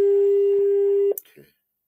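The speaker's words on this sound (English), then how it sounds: "You hear the phone is ringing now." On an outgoing call, a telephone tone sounds as one steady electronic tone that cuts off abruptly, followed by a brief click and a short burst of talk.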